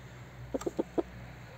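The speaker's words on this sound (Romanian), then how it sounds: "Aici e găinușa de cochinchina, nu știu dacă o vedeți" Cochin hens in a coop during an evening routine give a quick series of four soft clucks, close but faint, over a quiet background.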